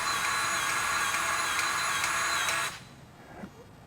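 A grease gun pumps grease into a shock fitting on a Jeep Wrangler JL during a lift install, giving a close, steady mechanical whir that cuts off sharply near the end and leaves quiet.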